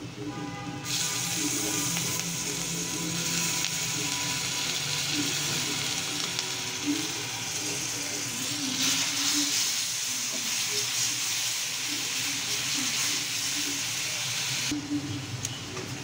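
Spice paste hitting hot oil with fried onions in a pan, giving a steady, close sizzling hiss that runs almost the whole time with a low background hum.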